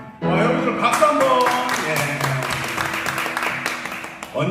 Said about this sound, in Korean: 여러분들 박수 한번.